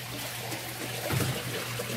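Water running steadily into the tub of a small 10-kilo washing machine, a continuous close rush that swells briefly midway, heard alone without talk.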